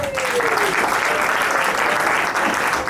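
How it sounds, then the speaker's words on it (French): Guests at a wedding ceremony give steady, full applause, a dense crowd of clapping at constant loudness throughout, with a brief voice heard at the very start. "je vous prie d'applaudir s'il vous plaît"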